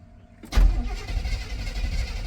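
A 1989 GMC Sierra K2500 truck, abandoned for a decade, cranks briefly and catches with a deep low rumble, then settles into a rough, steady idle close by.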